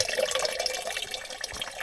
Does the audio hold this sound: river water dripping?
yes